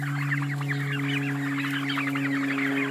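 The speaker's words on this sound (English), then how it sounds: "We have plenty of turkeys." Turkeys on a farm at a state park preserve, a dense flock clucking and chattering continuously, close and steady with a constant low mechanical hum underneath and no talk.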